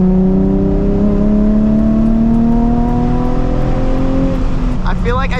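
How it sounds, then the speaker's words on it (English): A Nissan 350Z engine blips and revs during a downshift, its tone sweeping steadily upward in loud, close, sustained in-car drone, with a brief shift change near the end. "Does anyone else just downshift to just shift back up again?"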